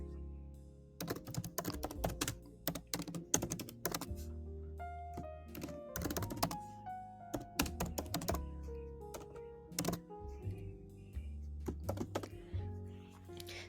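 Rapid typing of code on a computer keyboard, close and steady, with dense bursts of key clacks and occasional heavier thunks from the spacebar or enter key, no talking.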